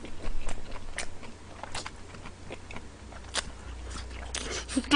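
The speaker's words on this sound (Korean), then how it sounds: "숙주나물하고 양배추가 아삭아삭해요." Crunchy bean sprouts and cabbage in cheese-topped yaki udon being bitten and chewed up close, a steady series of crisp crunching bites with no talking.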